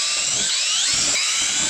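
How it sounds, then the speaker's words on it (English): A high-pitched power drill whines steadily, close and loud, its pitch wavering slightly as it bores holes in a Ski-Doo snowmobile skid plate, with no talking. "Drill these 3 holes."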